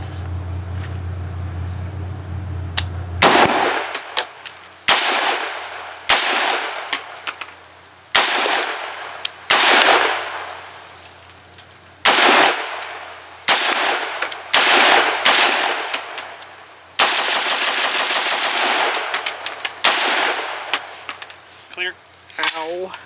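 A Brownells BRN-601 retro USAF AR15 Colt clone rifle fires its first shots: about eight sharp, loud single reports at uneven intervals, each ringing off with a short echo, and a quick pair near the end.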